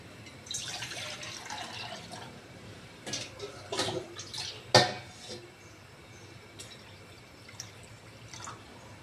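Water pours into a cooking pot for boiling rice, heard as intermittent splashing and gurgling bursts with a sharp clank of metal midway, then fading to quiet.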